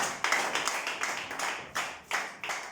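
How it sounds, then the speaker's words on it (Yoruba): Several hands clapping in a steady, repeated rhythm, close and fairly loud, about ten sharp claps with no voices. "Pàtẹ́wọ́ fún Jésù. Clap Jesus."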